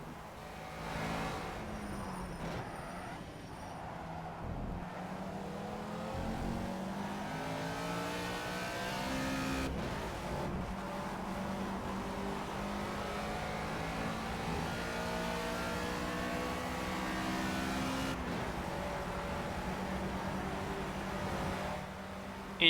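A race car engine in the Project CARS video game revs hard through a qualifying lap, its pitch climbing and dropping steadily through gear changes. The engine sound is loud and continuous, with no talk over it.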